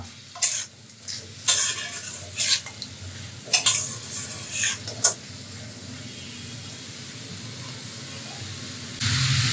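Lentils with added coconut pieces being stirred in a cooking pot, with a few scraping and clinking strokes in the first half over a steady low sizzle and hiss, then a quieter simmer.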